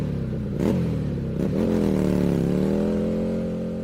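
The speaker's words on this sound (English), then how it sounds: "as we rev up our motorcycle" A motorcycle engine revs close by in two quick blips that rise and fall in pitch, then settles into a steady, even idle.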